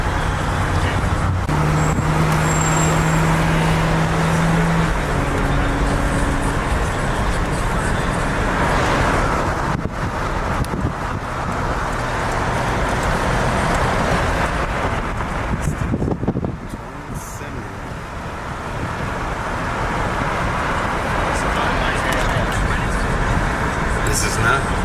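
A car passing in street traffic, a broad roadway rumble with wind buffeting the microphone that swells and dips around the middle, while people talk nearby over the steady traffic noise.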